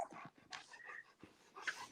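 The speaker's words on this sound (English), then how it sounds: "Is there a dog in here?" A dog whimpers and pants indoors in faint, uneven bursts, with soft whines and breathy sounds close by.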